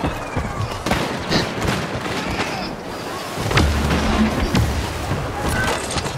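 Rocket blasts and explosions boom and crackle repeatedly in Star Wars Battlefront gameplay, dense and loud with gunfire mixed in, and a voice talks over the action.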